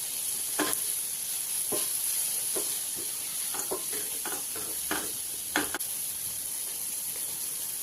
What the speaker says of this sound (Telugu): ఈ స్పైసెస్ మాడకుండా కలుపుకుంటూ వేయించుకోవాలండి.